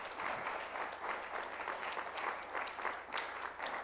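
Congregation applause at a Spanish-language church service: a moderate, rhythmic patter of many hands clapping, fairly distant and even throughout, with no speech over it.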